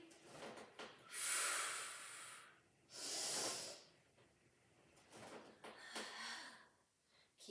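Heavy breathing during a Pilates mat exercise, with several long, loud hissing exhalations alternating with quieter breaths and faint shuffling, fairly close and without talk.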